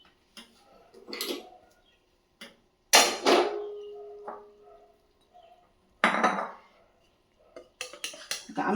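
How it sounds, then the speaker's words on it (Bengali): Cooked fish curry scraped and poured from a metal pan into a dish, with scattered clinks and scrapes of the utensil against the pan and dish in short bursts, close and moderately loud with quiet gaps between. "চলো রান্না রেডি, এবার ঢেলে নেবো রান্নাটা"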